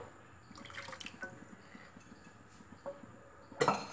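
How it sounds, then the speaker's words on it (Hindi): Water is poured into a cooking pot while buttermilk curry is being made. Faint drips and trickles come through quiet kitchen background, ending in a sharper clank and splash of the pot. "मैं थोड़ा सा इसमें पानी डाल के इसको हिला के बर्तन को और ये इसमें डाल रही हूँ"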